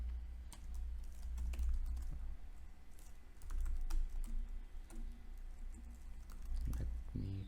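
Code being typed on a computer keyboard, a quiet, steady patter of light key clicks at a close distance that runs continuously from start to end.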